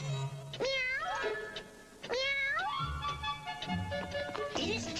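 A cartoon character's voice imitates a cat's meow, giving two drawn-out rising and falling meows, loud and close, with short spoken bits between them.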